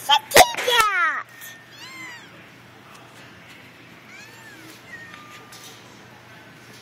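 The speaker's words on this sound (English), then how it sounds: "It's a kitty cat." Several soft cat meows in a quiet room, a few short rising-falling calls after an opening burst of close noise, faint and at moderate distance, with little else behind them.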